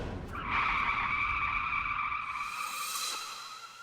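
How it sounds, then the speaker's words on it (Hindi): A car brakes hard to a stop, its tyres skidding in a loud, sustained squeal that starts abruptly and fades out after about two and a half seconds, close and without speech. "इंस्पेक्टर साहब गाड़ी रुकवाइए। अरे गाड़ी रोको,"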